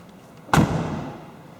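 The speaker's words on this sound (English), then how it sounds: "When you close the door, you're going to hear a significantly different sound." A 2018 Jeep JL door with new weatherstripping swings shut in a single solid, deep thud, close and loud, with a short dull ring-out afterward and no talk.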